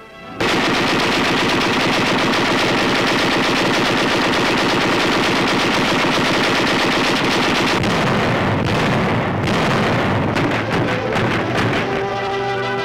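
Loud, sustained rapid bursts of anti-aircraft gunfire at a 1944 military artillery training school, dense and continuous, shifting to separate heavy cracks and rattling volleys in the final seconds; no voices.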